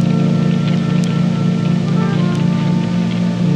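Steady rain falling continuously, a dense even hiss with a low broad wash underneath, close and fairly loud throughout, with no talking over it.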